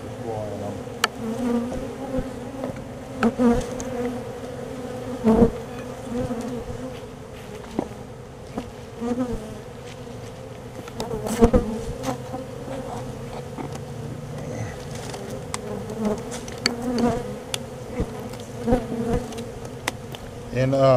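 Feral honey bees swarm around a bird house hive in South Louisiana, giving a steady close buzzing drone with individual bees zipping past the microphone, at a moderate level, with no voices.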